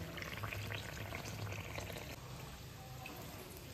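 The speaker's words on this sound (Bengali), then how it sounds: "এটাকে আমি এবার সঠিকভাবে ভেজে নিচ্ছি।" A pitha cake puffing up as it fries in hot oil, giving a steady close sizzle and crackle that keeps on without a break.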